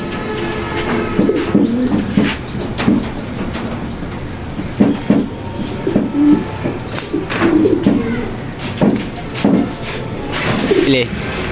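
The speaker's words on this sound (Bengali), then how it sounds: "এটা একটা লঙ্গের কবুতর" Racing pigeons coo repeatedly inside a loft, giving soft, rolling calls close by, while someone talks over them throughout.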